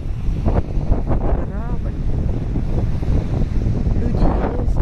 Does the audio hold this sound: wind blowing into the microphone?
yes